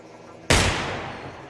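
A ceiling turret fires in the video game Receiver 2, a single sharp loud gunshot that bursts in suddenly and trails off in a long echoing decay.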